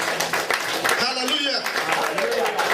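A church congregation in Singapore claps together in steady applause under loud singing and shouting voices, and the clapping runs throughout.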